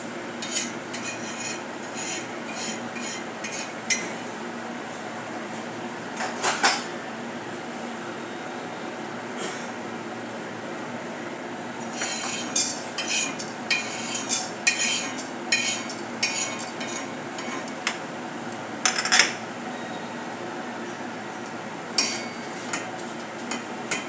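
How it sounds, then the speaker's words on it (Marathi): Coriander seeds, cumin and dried chillies are dry roasted in a pan, heard as a long stretch of dry rustling and scraping with clusters of sharp metallic spoon scrapes, close and fairly loud, with no talking. "धने आणि जिरे मिरची भाजून घेऊया."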